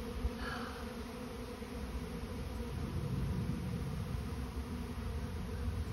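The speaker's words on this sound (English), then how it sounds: "The bees are getting in pretty quick" A dense, steady buzzing of a swarm of bees moving into a bait hive fills the air, continuous and fairly loud, with a faint rustle underneath.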